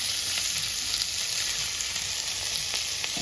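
Chopped ivy gourd (dondakaya) fries in oil in a pan, giving a steady, dense sizzle with faint crackles throughout and no voices.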